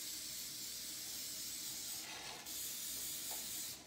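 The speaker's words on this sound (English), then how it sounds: "So I'm going to spray this pan." Cooking spray hisses onto a baking pan in a continuous close spray with a brief break and restart partway through, alone and fairly quiet.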